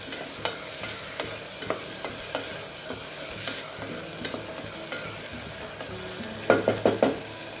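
Onions frying in a pan for dal, a low steady sizzle with regular light taps and scrapes of a spoon stirring, then a quick burst of louder clattering strokes near the end.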